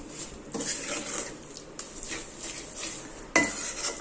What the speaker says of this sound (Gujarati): હવે આ શેકેલા લોટમાં આપણે ચાસણી છે તે બધી એડ કરી દેશું. થોડું એલચી પાવડર એડ કરીશું